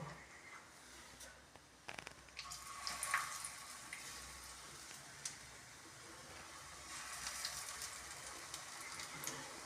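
Mushroom pakoras fry in hot oil with a faint, steady sizzling hiss, broken by a few soft clinks and scrapes, as if the pakoras are being turned in the pan.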